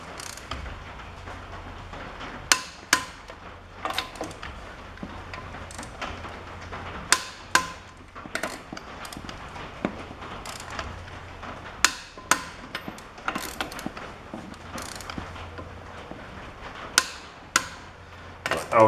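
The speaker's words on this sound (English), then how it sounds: "All that's left is to torque the lug nuts to 140." A torque wrench tightens the lug nuts on a 2014 Chevy Silverado in a crisscross pattern. Sharp metallic clicks and clanks ring out close by at irregular intervals over a low background rumble.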